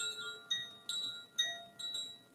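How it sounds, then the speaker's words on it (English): Chimes tinkle in a series of bright, ringing struck tones that arrive in clusters roughly every half second, each one fading slowly, clear and close with no talking. "As you hear the sound, the tinkling of the chimes"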